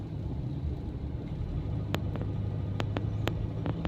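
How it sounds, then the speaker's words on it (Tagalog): Steady low road rumble of heavy northbound traffic crawling along, with car engines droning and a few sharp clicks or knocks cutting through, no talking. "Sobrang traffic."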